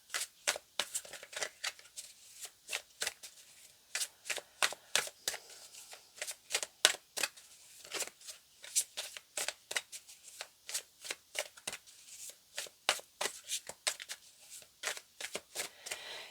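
A deck of tarot cards is shuffled by hand, with rapid irregular bursts of crisp riffling and slapping that repeat steadily throughout, close and dry with no talking.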